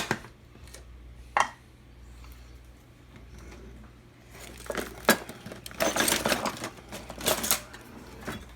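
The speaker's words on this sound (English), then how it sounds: "Chop up all the garlic." A food processor or chopper works through garlic in short bursts for a pizza recipe, with scattered clicks early and then a louder stretch of rattling, whirring chops near the end, fairly close.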